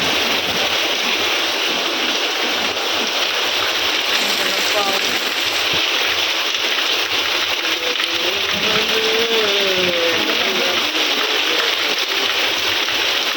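Heavy rain pours down in a dense, steady hiss, loud and continuous, with faint voices and a brief tonal sound partly masked beneath it.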